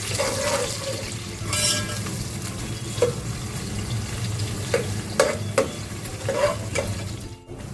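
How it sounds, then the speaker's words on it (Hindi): Chopped onions sautéing in oil in a pan for vegetable pulao, a steady sizzle with occasional stirring scrapes and clinks, close and continuous with no talking. "सबसे पहले मैं इसमें प्याज डालूंगी, इसको हल्का सा सौटे करेंगे"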